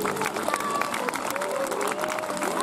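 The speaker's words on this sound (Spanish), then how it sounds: "Un fuerte aplauso para Quinto." Applause from a crowd at a school peace day event, a steady patter of many hands with voices and shouts mixed in throughout.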